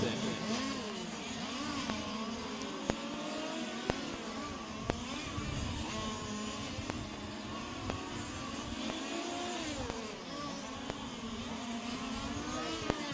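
Several 1/5 scale on-road RC race cars howl past on a racing circuit, their small engines whining and shifting pitch continuously. The high-pitched, buzzing drone stays steady and moderately loud, with a commentator talking over it.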